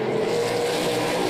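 NASCAR Pinty's Series stock cars race in the Frontline Workers 125, a loud, steady engine roar with a sustained droning pitch close by and no speech audible over it.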